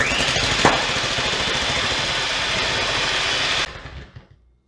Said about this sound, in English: First, we'll start beating the eggs until nice and frothy.